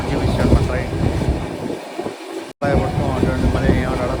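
A passenger train on the Tirupati to Vijayawada line rumbles and rattles steadily along the tracks, heard from inside the coach, with a brief dropout midway and a voice talking over the running noise.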